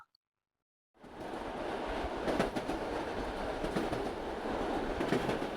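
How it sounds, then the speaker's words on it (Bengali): A running-train sound effect in an audio story starts after about a second of silence, then a steady rolling rumble with rhythmic clickety-clack of wheels on rails continues, moderately loud. "ট্রেন ঠিক সময় চলতে শুরু করেছিল"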